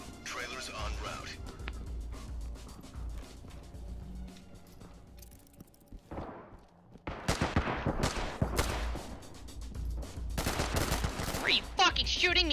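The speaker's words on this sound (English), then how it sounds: "Shooting me through a wall!" Gunfire in the tactical shooter Ready or Not, rapid bursts of close shots in the second half after quieter ambience, with voices talking over parts of it.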